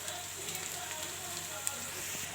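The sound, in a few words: onions frying with salt and turmeric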